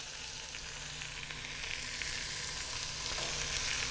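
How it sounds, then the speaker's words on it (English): Roast beef sears in a hot pan, a steady close sizzle of frying meat holding level and gently swelling throughout, with no voices over it. "See how the roast is doing. It's searing up very nicely."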